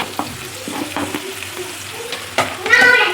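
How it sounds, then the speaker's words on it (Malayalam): Curry leaves and green chillies sizzle and fry in a pan for a chicken curry, with steady crackling and several scrapes of stirring, the sizzle surging louder near the end. "പിന്നെ അതിലേക്ക് തന്നെ നമുക്ക് കറിവേപ്പിലയും പച്ചമുളകും കൂടി ഇട്ട് കൊടുക്കാം."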